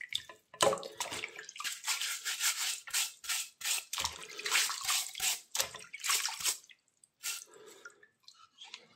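Dirty parts from a Makita GA5030R angle grinder are washed by hand in murky water, giving close, uneven splashing, sloshing and dripping bursts with short pauses between them.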